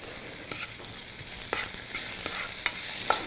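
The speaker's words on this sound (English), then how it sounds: "And I'm going to give it a good stir." A spoon stirs a tablespoon each of ginger and garlic frying in a hot pan for a Moroccan vegetarian dish, with steady sizzling and a few sharp scraping strokes, close and alone.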